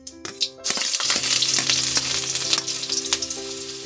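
Cumin, garlic and dried red chillies frying in hot oil for a tempering, a steady close sizzle with crackles and a few spoon scrapes, opening with a quiet moment before the fat flares up.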